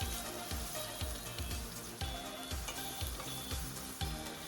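Ginger garlic paste frying in a pan with mustard seeds, a quiet continuous sizzle with soft rhythmic pops and stirring pulses repeating at a steady pace.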